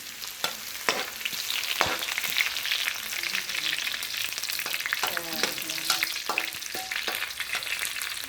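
Mixed mushrooms and garlic stir-fry in a hot pan, giving a steady sizzle broken by repeated scraping and clacking of the utensil against the pan, close and moderately loud with no voices.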